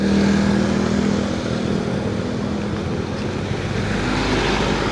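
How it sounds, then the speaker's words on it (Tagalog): Strong floodwater current rushing past a bridge during a typhoon in San Jose del Monte, a loud, steady broadband roar of churning water with wind buffeting throughout. "Ang lakas ng tubig."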